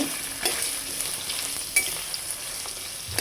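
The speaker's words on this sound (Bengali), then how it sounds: "এগুলো আমি তেলে দিয়ে দিব, দিয়ে হালকা একটু ভেজে নিব।" Potato chunks and chopped onion sizzle and crackle in hot oil as they are stirred, a loud, steady fry with a few sharper pops and no talk.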